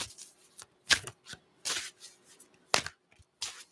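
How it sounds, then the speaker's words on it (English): Tarot cards are shuffled in short, crisp bursts with quiet gaps between, close up and riffling, no voices. "for how long I have to shuffle them."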